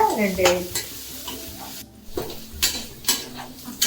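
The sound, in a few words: sautéing chopped green chillies with onions in a pan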